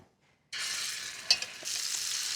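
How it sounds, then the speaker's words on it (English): Meat patties hit a hot skillet, silence giving way to a sudden loud sizzle that holds steady, with a brief sharp crackle partway through and nobody speaking over it. "Now I'm gonna add the patties to the skillet"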